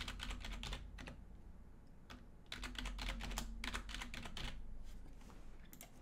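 A computer keyboard is typed on up close in bursts of quick clicking keystrokes with short pauses, during a FortiGate 60F firewall setup, with no talk.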